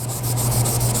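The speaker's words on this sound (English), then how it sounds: "just by running this eraser over it" An eraser rubs briskly over the rusty steel plate of a Disston hand saw, giving a close, continuous scrubbing sound with a steady back-and-forth texture for about a second.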